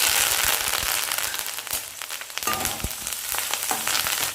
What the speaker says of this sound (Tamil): எண்ணெய் ஹீட் ஆயிடுச்சு. கடுகு பொரிஞ்சிருச்சு. பச்சை மிளகாயும் கருவேப்பிலை சேர்த்துருங்க.